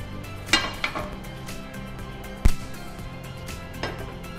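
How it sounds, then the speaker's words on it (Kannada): A tava is set down on a stove with a couple of light clinks and one solid metallic knock, close by over a low steady background hum. "ಫಸ್ಟ್ ನಾವೊಂದು ತವ ಇಟ್ಕೊಳ್ಳುವ ಸ್ಟಾರ್ಟಿಂಗ್"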